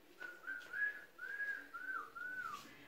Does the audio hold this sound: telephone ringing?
no